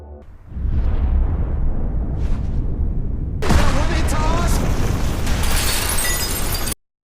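A film explosion tears through a building as the structure shakes and is destroyed: a sustained loud rumble erupts into a bigger, harsher blast midway, then cuts off abruptly.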